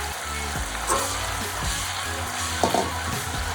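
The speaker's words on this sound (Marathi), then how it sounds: "कढीपत्ता परत छान असा कुरकुरीत होईपर्यंत तळून घ्यायचा आहे" Steady crackling sizzle of curry leaves frying in hot oil, continuous and close, with a few sharper pops and spatters.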